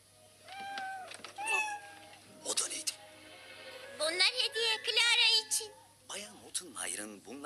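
Several cats meow in a short burst of rising and falling cries, close by and clear, while people talk over and between them indoors.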